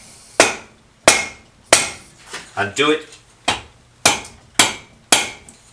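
A hammer strikes a BM 250 trials motorcycle's cylinder barrel joint in a steady series of sharp metallic blows about every half second, close and loud, with a brief spoken phrase in the middle.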